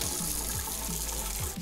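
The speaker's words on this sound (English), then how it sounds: "I'm just gonna wash these potatoes under the cold water." Cold tap water runs steadily into a sink while potatoes are washed and rubbed under the stream, a loud continuous gush close by with faint knocks of handling beneath it.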